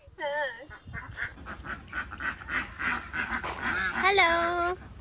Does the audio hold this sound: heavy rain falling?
no